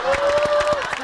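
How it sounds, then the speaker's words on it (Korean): A few people clap briefly in a quick run of sharp hand claps, with a steady tone and light crowd noise underneath. "박수, 박수."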